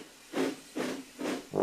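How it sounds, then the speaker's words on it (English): A cartoon steam engine puffs out clouds of steam in four evenly spaced breathy hisses, each a soft whooshing burst with a quiet gap between. "he puffs out a cloud of steam."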